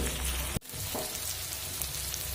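Spices with chopped tomato, coriander powder and cumin powder frying in a pan, a soft continuous sizzle with a sharp stirring knock near the start.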